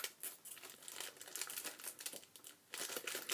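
Crinkly plastic Pocky snack packaging is ripped and crumpled by hand in close, rapid bursts of tearing and rustling, with short pauses between pulls.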